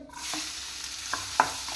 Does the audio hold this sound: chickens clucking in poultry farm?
no